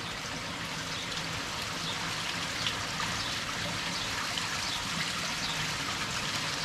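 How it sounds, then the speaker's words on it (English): Water rushes steadily from a koi pond skimmer pipe that has popped off, making a loud, constant splashing flow with no let-up and no voices. "I've just knocked the pipe to the skimmer, which has popped off, and I've lost obviously an absolute boatload of water."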